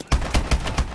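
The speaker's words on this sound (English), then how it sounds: "Did I shoot Gideon?" Rapid automatic gunfire from a Call of Duty: Advanced Warfare firefight cracks in four quick, evenly spaced punchy shots within a second, loud and close with no talking.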